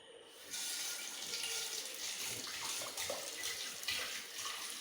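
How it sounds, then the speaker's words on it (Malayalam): Hot water is tipped out of a pan in a home kitchen, a steady rushing pour that splashes continuously and fairly loudly for several seconds. "നമ്മൾ ആ വെള്ളം കളഞ്ഞിട്ടുണ്ട്"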